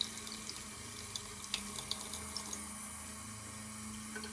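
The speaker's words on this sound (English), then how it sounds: "And then rinse it again," A makeup brush is rinsed under a running tap, with steady water pouring and splashing into a sink and small clicks and splatters throughout, heard close and without talk.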